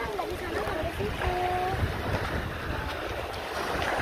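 A small boat moves across the sea at high tide off a beach in Alor, with steady wind buffeting and water wash, and brief voices in the background.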